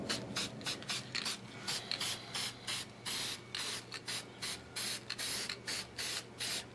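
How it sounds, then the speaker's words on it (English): Short bursts of spray ink hiss onto a wood carving for a taproom sign, a rapid string of separate spurts with brief gaps between them, close and fairly quiet. "Now I'll set up and spray the carving there."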